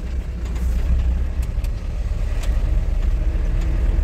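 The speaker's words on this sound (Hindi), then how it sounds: "देखिए उसमें से गाड़ी आ रही है लाइट जला के" A road vehicle approaching with its headlights on through haze or smoke: a steady engine and tyre rumble, fairly close and even in level, with no talk over it.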